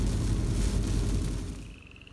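Frogs croaking outdoors on a road in the rain, a loud dense low chorus over steady rain hiss that fades toward the end, with no voices.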